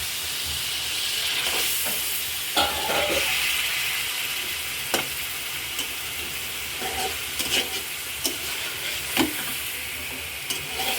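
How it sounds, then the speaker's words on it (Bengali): Raw fish stir-fried in a pan with leafy greens keeps up a steady close sizzle, broken by repeated scraping strokes of a spatula, with no talking. "মাছটা হালকা একটু কষাবো"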